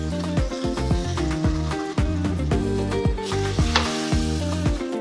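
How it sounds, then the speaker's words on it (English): A gochujang pineapple glaze sizzles and fries steadily in a hot pan, a dense continuous crackle with some stirring, close and loud with no talking. "We're going to let that sizzle for about a minute or so before we get adding the other ingredients."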